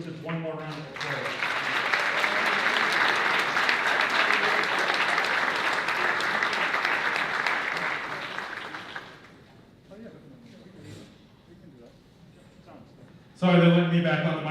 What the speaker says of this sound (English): We can just give all of our teachers one more round of applause.